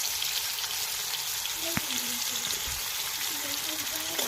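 Potato pieces dusted with turmeric fry lightly in a pan, giving a continuous even sizzle with soft faint tonal sounds and a single sharp tap partway through.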